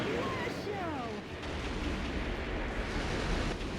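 Explosions in the video game Metal Wolf Chaos, with dense, continuous rumbling blasts and crackling filling the whole stretch, with brief whistling tones early on.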